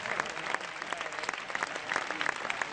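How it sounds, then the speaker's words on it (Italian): A tango festival audience in Mantova gives a couple of dancers lively applause, dense clapping with sharp individual claps standing out, close and sustained throughout. "forte l'applauso per questa incredibile coppia di artisti, Juan e Ciccio."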